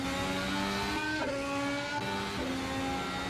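Mercedes Formula One car engine in Assetto Corsa at Albert Park, a loud, steady high-revving whine with pitch shifting through gear changes, heard up close and alone.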